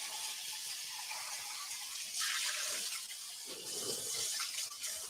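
Tap water running steadily into a sink while a hot sauce bottle is rinsed, with a fuller gushing swell partway through, moderately close and without speech.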